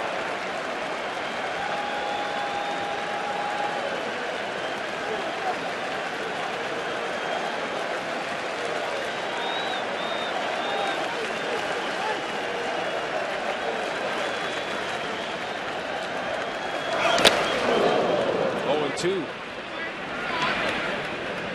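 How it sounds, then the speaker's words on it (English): A baseball stadium crowd at a 2013 ALDS playoff game, Red Sox hosting, keeps up a steady roar of cheering and applause beneath play-by-play talk, swelling briefly louder near the end. "And the crowd's letting them know about it right now."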